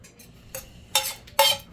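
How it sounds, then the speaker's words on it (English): Metal utensil scraping pasta out of a pan: three short scrapes and clinks, growing louder, separated by brief pauses. "If I can get this pasta out of the pan,"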